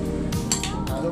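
Fish kinilaw stirred in a dish with a metal utensil, a few quick clinks and scrapes against the bowl over a steady humming background, no talking.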